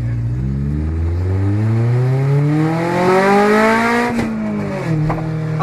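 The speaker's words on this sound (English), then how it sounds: "listen to that car roar" A 1999 Honda Civic with an open header revs loudly and up close, its engine note climbing steadily in pitch before briefly dropping and rising again.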